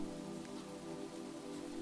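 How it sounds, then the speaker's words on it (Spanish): Heavy rain drums steadily on a roof, a dense, continuous patter at a constant rhythm with no voices. "la lluvia no cesaba, sino que aumentaba en intensidad, golpeando el tejado con un ritmo constante"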